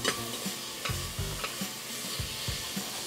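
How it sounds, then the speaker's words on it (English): Three bacon slices sizzle and render in a pot over medium-high heat, a steady crackling fry with a few sharp pops and stirring scrapes, close and moderately quiet. "So we're going to allow that to cook down and render so we get the fat from the bacon"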